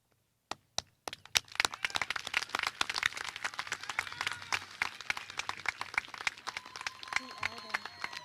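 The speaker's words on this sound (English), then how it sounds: "Family and friends, please join me in applauding these students for their outstanding achievement" At a 2021 high school graduation ceremony, a few isolated claps quickly swell into sustained, dense applause for cum laude graduates, with a voice briefly audible near the end.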